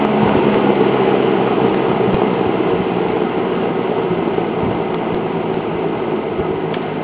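A vintage Berns Air King 12-inch box fan, model P14-2, runs on low speed with a steady, close, even whoosh of air that never changes, holding alone with no talk over it.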